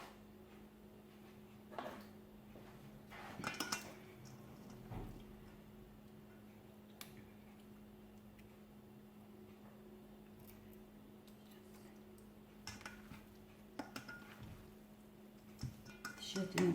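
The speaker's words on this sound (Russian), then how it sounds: "Тщательно перемешиваем все." Funchoza glass-noodle salad with vegetables and cilantro being stirred in a bowl, quiet scattered clinks and scrapes of utensils with a few louder knocks near the end.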